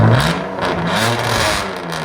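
A BMW Z3 with a 3.0L inline-six and a straight-pipe exhaust revs loudly and close by, a raw, rasping roar that rises and falls over about two seconds.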